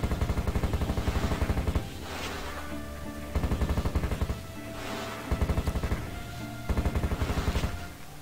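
Firemace weapon firing in the Heretic video game, rapid rattling bursts of repeated shots in several volleys, loud and close over steady background game music.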